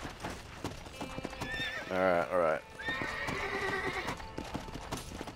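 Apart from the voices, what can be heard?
horse hooves and whinnying in video game Red Dead Redemption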